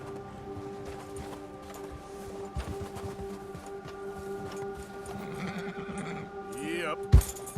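Horse whinnying and hoof clops in the Red Dead Redemption 2 video game, with a sharp neigh near the end over steady game music and ambience; a voice talks briefly.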